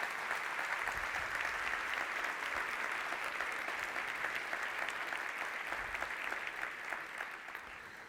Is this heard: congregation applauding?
yes